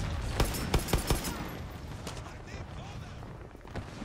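Sharp gunshots from Far Cry 6 crack out in a quick cluster of four or five close bangs early on, then give way to a low rumbling battle ambience with a faint later shot.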